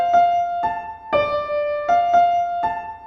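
A short melodic motif played in its upside-down (inverted) form: six clear, sustained pitched notes with ringing overtones, struck one after another at an even, moderate pace, loud and close with no voices.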